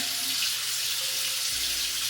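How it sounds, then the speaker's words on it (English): Water running steadily from a tap while styling curly hair with gel, a continuous close hiss with no voices. "Adding a little water."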